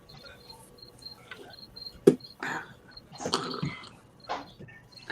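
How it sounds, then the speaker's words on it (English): Crickets chirp in repeated short high pulses through the background, joined by a few louder sharp noises such as coughs or clicks. "I'm hearing crickets."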